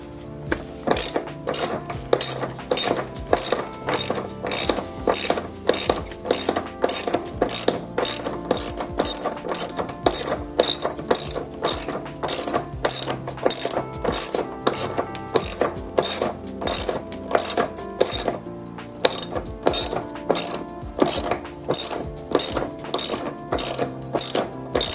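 A ratchet wrench turns a 14 millimeter bolt inside a Lexus LX, rapid close clicking in repeated bursts of strokes with brief pauses, sustained throughout.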